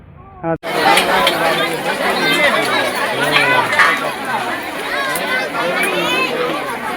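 Dense crowd chatter fills a busy Hindu temple, many overlapping voices forming a loud, steady babble close around, after a brief quieter moment at the start.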